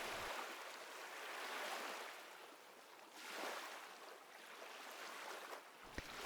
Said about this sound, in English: The sound of the ocean remains constant, a slow, repeating rhythm that never rushes, never changes too suddenly.